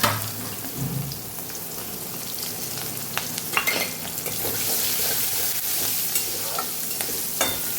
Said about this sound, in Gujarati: અહીં આપણે ડુંગળીને સાતળી લેવાની છે।